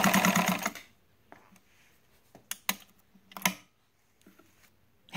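A vintage White 765 Gold sewing machine stitches through quilting-weight cotton layers in a short, fast mechanical run near the mic, followed by scattered quiet clicks and taps.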